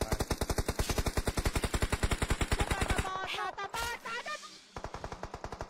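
Rapid automatic gunfire in the mobile battle royale game PUBG Mobile, loud sustained bursts with a brief break and mixed shots mid-clip before firing resumes, with a faint voice under it.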